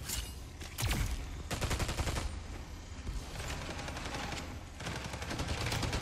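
Sustained automatic gunfire from a Spectre Divide match, dense rapid bursts rolling almost continuously with brief gaps, loud and close throughout.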